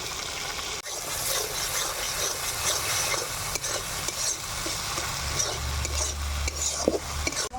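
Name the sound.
spices frying and stirred in pan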